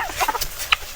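Native chickens give a quick flurry of short clucks and chirps in a brief, close burst.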